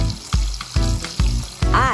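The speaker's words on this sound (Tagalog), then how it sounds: "At piprituin po natin ang deep fry for 350 degrees." Chicken deep-frying in canola oil hisses and sizzles loudly up close, with repeated thumps and stirring bursts in a steady rhythm.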